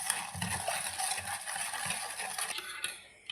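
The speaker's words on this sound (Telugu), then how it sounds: "ఈ మూడింటిని బాగా విస్కర్తో అయితే బాగా మిక్స్ చేసేద్దాం" Jaggery and junnu powder mixture being whisked, a continuous close wet stirring and scraping with rhythmic strokes of the whisk against the bowl.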